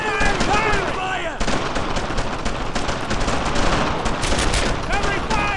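Dense, continuous gunfire and automatic bursts from a World War II battle in the video game Brothers in Arms: Earned in Blood, loud and sustained throughout with overlapping shots, while voices can be heard in the chaotic mix.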